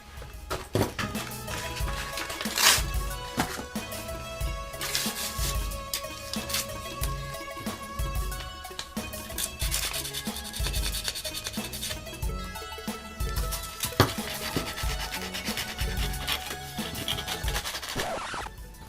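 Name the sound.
sandpaper smoothing edges of a pump grip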